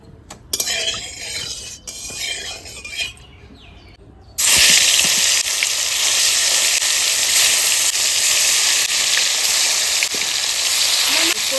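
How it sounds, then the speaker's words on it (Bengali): Fish dropped into hot oil in a home kitchen bursts into a loud, steady, close sizzle that runs unbroken after earlier quieter clinks and stirring. "এবার আমার তেল গরম হয়ে গেছে এবার মাছটা ছেড়ে দেব"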